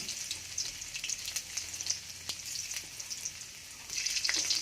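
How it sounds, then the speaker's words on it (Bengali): Chopped garlic hits a little oil with cumin seeds already tempering in the pan, giving a bright, steady sizzle with scattered crackles and pops that swells louder near the end. "এবার দিয়ে দেবো রসুন কুচি"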